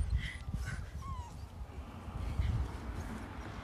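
A dog whimpers and whines in thin, rising cries over soft rustling, with a few short yips mixed in. The sound is close and fairly quiet throughout.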